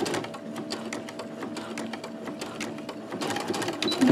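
A sewing machine runs steadily while backstitching a hem on a split-hem garment, a close, even mechanical whirr with a rapid needle chatter that picks up slightly toward the end.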